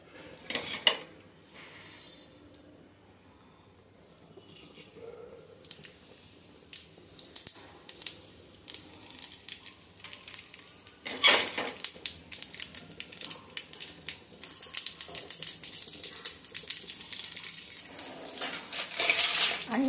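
Makhana roasting in a pan with a little oil is stirred with a spatula, producing light scraping clinks and rustling rattles that grow busier and louder toward the end, close up.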